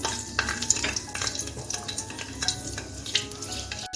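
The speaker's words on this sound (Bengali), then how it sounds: "এখন আমি ফোড়নটা দিয়ে দিচ্ছি ফোড়নটা একটু বেজে নিচ্ছি" Whole spices sizzle and crackle as they temper in hot white oil in a non-stick kadai, with irregular stirring scrapes and pops throughout, close and moderately loud with no talking.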